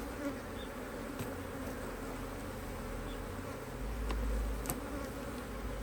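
Honey bees buzz steadily around an opened hive during a brood inspection after swarming, a dense continuous drone close by with no talking.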